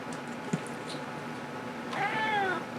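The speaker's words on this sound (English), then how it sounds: "We have a guest appearance by Guys the Cat." A cat gives a single drawn-out, rising-and-falling meow close by, late in the clip, after a stretch of quiet room noise.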